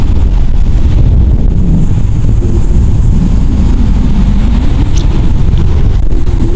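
Strong wind buffets the microphone in a constant low roar, loud and unbroken throughout, at a rocky beach in Puerto Galera.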